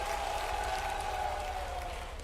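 An audience at an outdoor Dussehra event honouring Devi Ahilyabai's 300th birth anniversary applauds in a steady, dense wash of clapping that holds for the whole stretch, with a thin whistling tone running over it.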